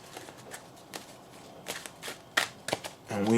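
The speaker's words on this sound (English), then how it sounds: "All right, so we're just going to shuffle." A deck of tarot cards is shuffled by hand in a quiet room, giving a series of short, crisp riffling bursts spaced irregularly, ending as a voice begins to speak.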